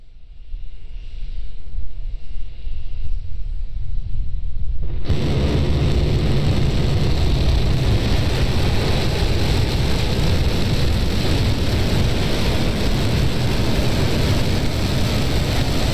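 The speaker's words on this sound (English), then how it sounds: "We're preparing to light 3 Raptor engines to begin the flip sequence." SpaceX Starship SN10 lights three Raptor rocket engines during a high-altitude flight test. A quieter background hiss cuts abruptly into a loud, dense, steady roar that continues unbroken for more than ten seconds.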